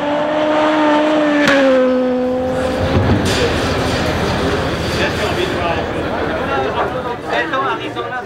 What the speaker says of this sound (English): The car racing here in Sherbrooke are 400 horsepower, four-wheel drive, and only two-wheel drive with direction.